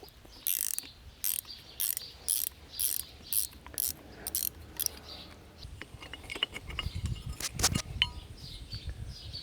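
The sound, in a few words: wrench loosening Woodford Y34 frostproof hydrant parts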